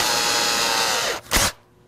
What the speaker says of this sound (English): so same position where the holes are, just drill a little bit further in.